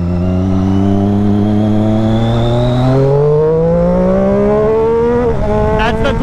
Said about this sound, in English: That's the quick shifter for you guys.